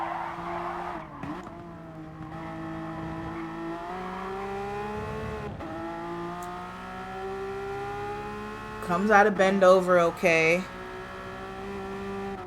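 A street car in a club race meeting drives around a circuit under commentary, its engine note droning steadily throughout, then a brief burst of louder revving and tire noise near the end.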